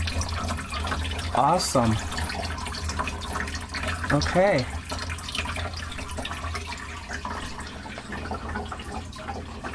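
Water streams from newly plumbed supply-line taps down into drain pipes as a steady rushing flow, with someone speaking briefly over it.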